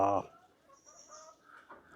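A Giriraja chicken on an organic farm gives one loud, close cluck at the start, followed by faint, scattered fowl sounds in quiet surroundings.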